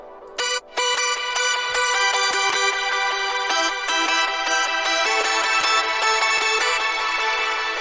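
A thin, fairly clean hardstyle synth lead layer, pitched one octave above the previous layer, plays alone as a steady bright melodic line of repeated notes with short gaps, close and loud.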